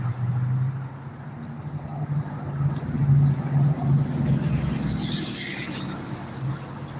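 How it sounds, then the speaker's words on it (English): Road traffic on Walnut Avenue, a busy street: a steady low engine rumble from passing vehicles that swells around the middle, with one vehicle going by more clearly near the end. "it is high traffic right here on Walnut Avenue"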